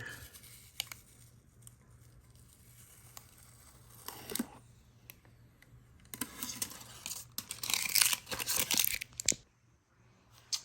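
Backing paper is peeled off a sticker in a garage: a brief rip, then a run of crackly tearing and crinkling bursts, close but fairly quiet, with no talk.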